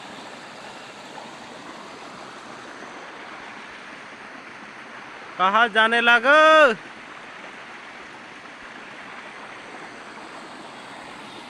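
Swollen drain carrying heavy rainwater like a river gives a steady broadband rush of flowing water throughout, with a short burst of excited talk in the middle.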